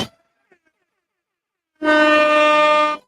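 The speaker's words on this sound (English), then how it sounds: "my button is stuck on the air horn" An air horn sound effect from a soundboard blares loud and steady for just over a second after near silence, played during a live football chill-along stream.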